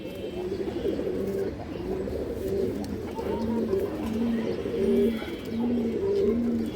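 Several pigeons coo in repeated soft, low phrases, close by and continuous, over a faint background murmur.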